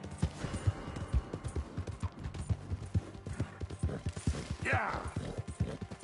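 Horse hooves galloping in the video game Red Dead Redemption 2, a quick steady clip-clop rhythm running close throughout while someone speaks briefly over it.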